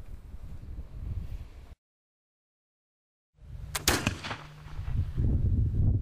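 A flintlock musket fires outdoors at a historic trading post, a single sharp blast followed by a rumbling roar and tail that fades out, preceded by faint wind and handling noise before a brief gap.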